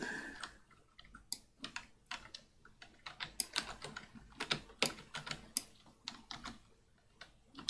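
Computer keyboard typing in a Borderlands game chat: a close, irregular burst of sharp key clicks and taps, some quick runs and isolated strikes, with no talking over it.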